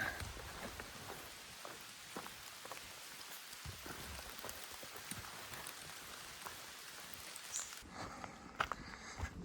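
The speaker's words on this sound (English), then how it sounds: "And hopefully that rain will lighten up." Steady rain falls on a mountain section of the Appalachian Trail, a dense, continuous hiss with scattered nearer drop impacts, easing slightly near the end.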